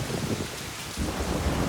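Rain pours steadily in a movie scene, with a low thunder rumble rolling under the hiss and a heavier swell of downpour near the end.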